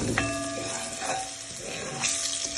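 Curry powder frying in a pan and stirred with a spoon, a steady close sizzle with a few light metallic scrapes and clinks of the spoon against the pan.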